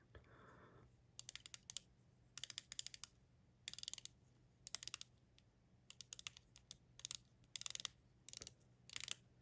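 A Sangin Instruments watch bezel is turned in short bursts of crisp ratcheting clicks, close and fairly quiet, separated by brief pauses over a low steady hum.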